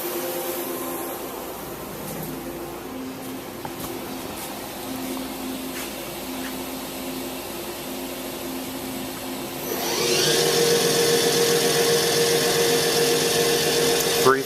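A Daewoo DMV5025-50 CNC vertical mill spindle runs with a steady whine that holds for about ten seconds, then jumps to a louder, brighter, denser roar as the speed steps up and stays there to the end.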